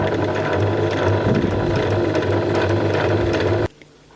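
A sewing machine runs slowly and steadily, stitching a pin hem around a curve in tricky fabric, its close mechanical whir continuing without talk before cutting off abruptly near the end.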